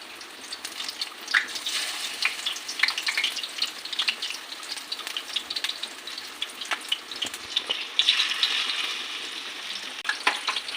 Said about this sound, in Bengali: এবার এই বেসনে আস্তে আস্তে করে চুবিয়ে ভালো করে এবার ছেড়ে দেবো একটা একটা করে